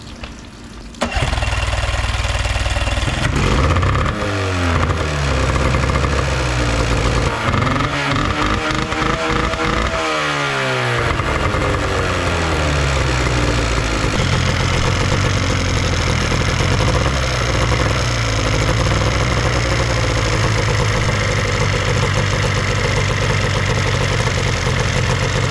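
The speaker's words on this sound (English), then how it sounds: "the motor's running way better after we rebuilt the carburetor" An outboard boat motor with a freshly rebuilt carburetor runs steadily and loudly close by for the whole stretch after a sharp start. It holds an even idle rumble with some uneven sputtering early on, and no one speaks.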